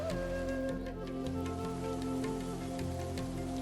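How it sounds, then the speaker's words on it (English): Heavy monsoon rain sweeping in from the Indian Ocean over India, a dense, continuous downpour pattering loudly on surfaces with scattered sharper drop hits throughout. "Each summer, thundering walls of rain sweep in from the Indian Ocean, dropping up to 400 inches in the wettest places on the planet."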